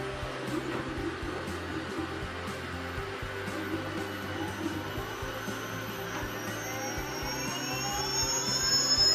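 A KingSong electric unicycle's wheel motor spins freely off the ground, giving a steady tonal whine with rising harmonics that climbs in pitch and grows slightly louder toward the end.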